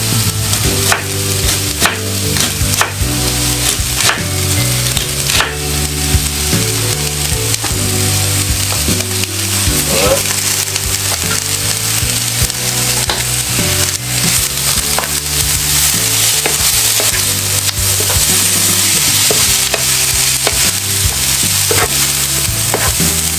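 Cabbage stir-frying in a pan gives a loud, continuous sizzle close by, broken by the repeated scrape and clack of a utensil stirring through the leaves.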